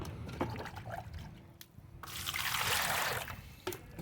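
Fresh water is poured slowly into a lotus tuber pot, with faint trickles and drips first, then a fuller, splashing pour for a second or two that tapers off into light drips.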